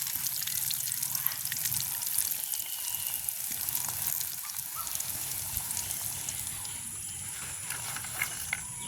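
Suiyam, sweet fried snacks, crackling in hot oil: a faint, steady bubbling sizzle with fine scattered pops running throughout, no voices.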